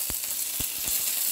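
A tempering sizzles in hot oil over a high stove flame, a bright continuous hiss with a few soft pops and stirring knocks, close and alone.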